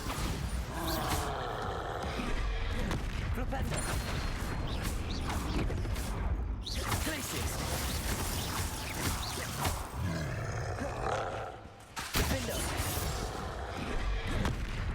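In the video game Hogwarts Legacy, on hard mode during a fight that includes a troll, the Bombarda spell detonates amid dense, continuous, loud roaring blasts and rumbling battle noise, with a brief dip before it surges again.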